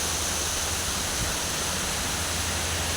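Clear herbal stream water flows in a hill farming area, a steady, dense rushing wash that stays constant throughout with no voices over it.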